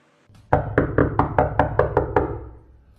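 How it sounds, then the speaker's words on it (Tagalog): Knocking on a bedroom door from outside: about eight quick, evenly spaced raps, close and fairly loud, followed by quiet. "Katok mula sa labas ng pinto ni Jana."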